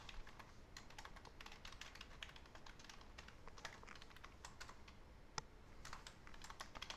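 Quick bursts of keystrokes on a computer keyboard clatter in uneven runs throughout, fairly faint and close, with one sharper key press near the end and no talking.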